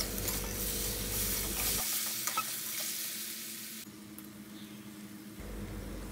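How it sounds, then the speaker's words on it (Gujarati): Stuffed gunda (glue berries) coated in masala paste sauté in a pan over a low-to-medium gas flame, giving a steady close sizzle with stirring scrapes throughout and no talking. "તો હવે તેમાં આપણે જે પેસ્ટ બનાવી તે મિક્સ કરી દેશું, અને ધીમાથી મધ્યમ ગેસની ફ્લેમ પર ફરીથી તેને 3-1 મિનિટ જેવું સાંતળવાનું છે"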